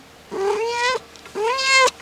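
A house cat meows twice, each a clear, close, drawn-out call with rising pitch, separated by a short pause in a quiet indoor room.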